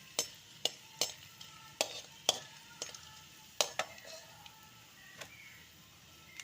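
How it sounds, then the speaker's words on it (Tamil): Lump asafoetida fries in a pan for idli podi, a light sizzle broken by a string of sharp, close spoon taps and scrapes against the pan at an uneven pace. "பெருங்காயம் நல்லா பொரியட்டும்."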